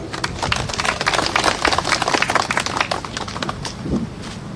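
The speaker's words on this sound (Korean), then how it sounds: "여러분 큰 박수, 응원의 박수 부탁드리겠습니다." Dense crackling applause from an outdoor rally crowd at a protest near the Seoul veterans office in Samgakji, steady and lively before thinning slightly toward the end.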